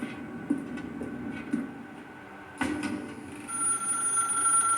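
A telephone rings in The Stanley Parable video game, a faint bell-like ring repeating at a steady pace over a quiet room tone.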